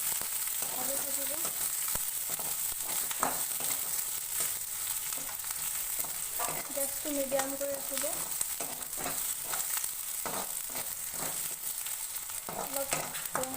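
Fish head fries in a pan over a medium flame with a steady, low sizzle and occasional stirring scrapes, while someone talks now and then over the cooking.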